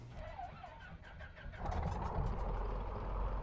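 Piper Dakota piston engine in MSFS 2024 cranks over for about a second and a half, then catches and settles into a loud, steady running rumble close by.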